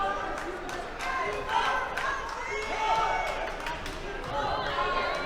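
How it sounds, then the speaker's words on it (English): A crowd at a high school basketball game between Fitchburg and North Middlesex cheers and claps in bursts, with sharp slaps or bounces cutting through, while a commentator talks over the noise. "The crowd loves it"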